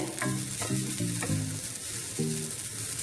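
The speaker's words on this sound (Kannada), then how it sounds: "ಒಂದು 4-5 ಟೇಬಲ್ ಸ್ಪೂನ್ ಅಷ್ಟು ತೆಂಗಿನ ತುರಿ ಹಾಕೊಬೇಕು. 2 ನಿಮಿಷ ಹುರ್ಕೊಂಡ್ರೆ ಸಾಕು." Grated coconut roasts in a pan with a soft, steady sizzle, while a spoon scrapes and stirs in several short, distinct strokes.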